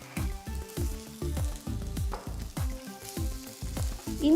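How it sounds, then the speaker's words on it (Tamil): Ginger garlic paste sizzling in a pan with chopped onion and green chillies as it is sautéed, a steady crackling fry with rhythmic stirring pulses, no voices. "இஞ்சி பூண்டு பேஸ்ட் சேர்த்ததுக்கப்புறம் 2-3 நிமிஷம் வதக்கணும்."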